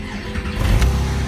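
A 2006 Porsche 911 S Cabriolet fires up: a short cranking whir gives way to a catch and a rising engine roar, heard up close with no talking.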